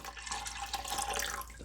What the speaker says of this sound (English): I'm going to add water till every noodle or every elbow pasta is submerged in water.